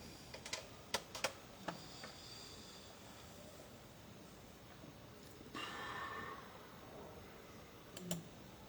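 Password being typed on a computer keyboard: a quiet, irregular series of sharp key clicks, clustered near the start and again near the end, with a brief rustle in between.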